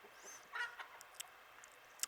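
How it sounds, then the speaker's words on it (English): Roosters and chickens on a farm give a few brief raspy calls and clucks, faint and somewhat distant, with no one talking. "Very mouthy chickens. Well, those are the roosters,"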